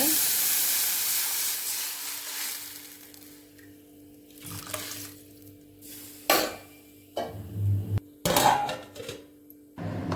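Dry ginger rasam is poured into hot tempering oil with a loud hiss that fades over a few seconds, followed by intermittent clinks and stirring in a pot.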